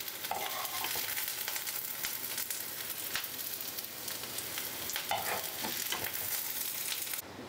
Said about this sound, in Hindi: 3 से 4 मिनट के लिए मैंने बस प्याज को फ्राई किया है।